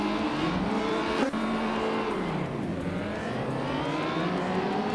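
Race cars in a racing video game, including a 2016 Volkswagen Jetta, engines whining and shifting pitch as they drive, with a brief tire squeal or sharp knock partway through and a steady drone continuing.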